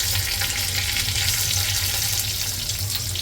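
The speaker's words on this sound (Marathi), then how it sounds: "आणि आपण एक एक मच्छी ॲड करूया." Fish pieces, Maharashtrian-style fish fry, hit hot oil with curry leaves in the pan, giving a dense, continuous loud sizzle that hisses evenly for a few seconds, close by with no talking.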